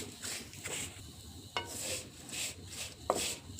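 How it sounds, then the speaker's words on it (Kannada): Faint, dry scraping and rustling comes from a spatula as poha (flattened rice) is stirred and roasted in a pan over a low flame without ghee. A few sharper scrapes are heard, with no talking. "ಅವಲಕ್ಕಿನ ಹಾಕಿ ಸಣ್ಣ ಉರಿ ಒಳಗೆ ಇದನ್ನ ಫ್ರೈ ಮಾಡಬೇಕು ಹುರಿಬೇಕು"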